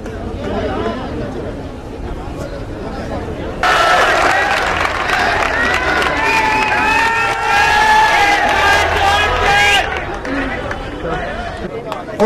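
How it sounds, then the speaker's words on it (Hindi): A crowd at a public event in Chhindwara applauds and cheers in welcome, a dense, loud wash of clapping, shouts and babble that swells midway, with whistle-like cries rising above the clamor. "और ये जोरदार तालियों से आदरणीय कमलनाथ जी का स्वागत होना चाहिए"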